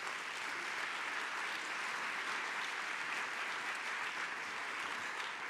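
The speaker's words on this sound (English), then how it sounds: "they deserve a special round of applause from you" Sustained audience applause at an arts conference opening plenary, a dense, even wash of many hands clapping, steady and full for the whole stretch with no talk over it.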